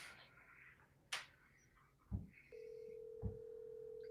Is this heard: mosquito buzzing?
no